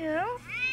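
A single drawn-out meow, rising and then falling in pitch, voiced by a person imitating a cat over a radio line; it is close and clear for under a second.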